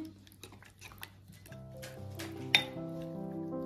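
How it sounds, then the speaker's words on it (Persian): A spoon clinks against a bowl while sauce is stirred with olive oil, quiet scraping and scattered taps with one sharper clink, no talk. "یه قاشق غذاخوری روغن زیتون. خوب مخلوط میکنیم."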